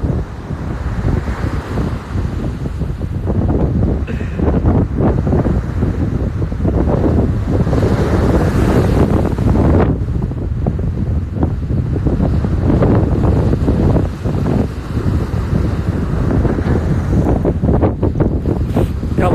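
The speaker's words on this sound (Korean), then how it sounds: "지금 바람 소리가 장난이 아니에요." Heavy wind buffets the microphone in a constant loud roar, rumbling and gusting without pause, with no voices heard.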